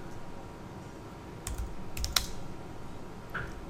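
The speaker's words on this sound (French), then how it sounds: "Ici, je tape le mot dogs par exemple." Light typing on a computer keyboard while entering text in InDesign, a few faint scattered key clicks over a quiet room hiss.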